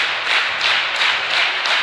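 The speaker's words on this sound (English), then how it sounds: "Is getting an applause here from the Comet side" Applause from the Comet fans in the crowd at a Hinton at Carnegie girls basketball game, a steady wash of clapping through a gym with slight swells, no talk over it.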